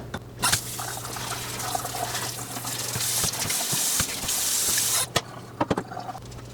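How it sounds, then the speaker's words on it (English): Water pours steadily onto a potted philodendron at close range, a continuous splashing and trickling fill broken by brief pauses and a few sharp handling taps toward the end. "we're just going to water her really good"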